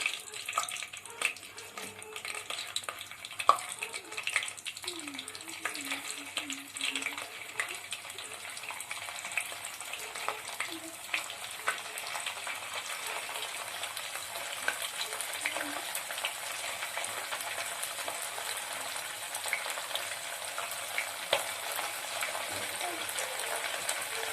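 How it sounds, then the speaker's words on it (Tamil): Chicken pieces deep frying in hot oil in a kadai, a steady faint crackling sizzle throughout with occasional clinks and stirring near the start, quiet and without talk. "சிக்கனை ஃப்ரை பண்ணி எடுத்துக்கலாம்."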